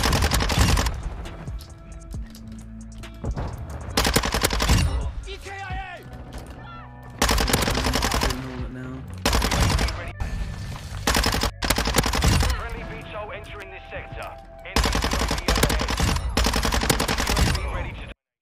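Rapid bursts of Minibak submachine gun fire in a video game, loud and close, repeating in several long strings separated by brief pauses, with game effects mixed in and no talk.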